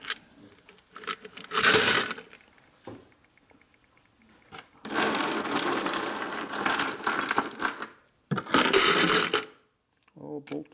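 Loose metal bolts and screws from a 1983 Harley FXRT shovelhead clatter and jingle in bursts, shaken and rattled around with brief quiet gaps between the rattling spells, close up.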